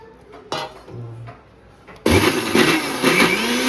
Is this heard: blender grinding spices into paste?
yes